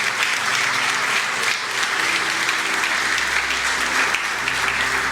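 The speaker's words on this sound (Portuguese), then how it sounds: "Aplauda ao Senhor e glorifique o seu nome" Congregation applauding during a Portuguese-language church sermon, steady full-room clapping from many hands, continuous and fairly loud, with a low sustained tone humming beneath it.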